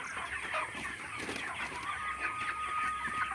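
Dense, steady clucking from about 2,500 chickens on a poultry farm at night fills the air, a busy flock murmuring continuously with no one speaking.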